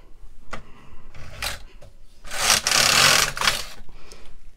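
The carriage of a Brother KX350 or LK150 knitting machine is pushed across to knit a row. It gives a loud mechanical whir and clatter, preceded by a few short clicks and taps of needles being handled.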